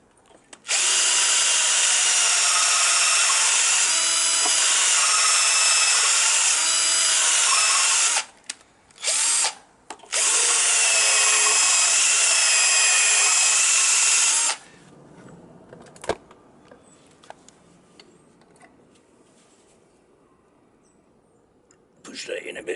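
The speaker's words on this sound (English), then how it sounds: "we're going to get me wire wheel on the drill and clean them out a little bit" A power drill spins a wire wheel against rusty brake parts on a Suzuki GR650 Tempter motorcycle, whining loudly in two long bursts with a few short blips between them, followed by quieter handling noises.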